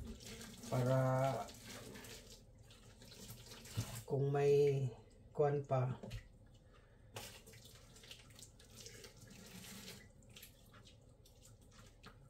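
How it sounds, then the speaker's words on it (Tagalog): Hot water streams from a tap or is poured over a plucked carcass to loosen leftover feathers, a soft running splash in the quiet gaps around someone speaking nearby. "Tapos ngayon, lapuan ko ng mainit na tubig ito"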